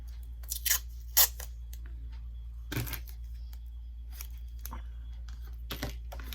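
Masking tape is pulled and torn in a few short, crisp rips and crackles, separated by quiet pauses over a low background hum.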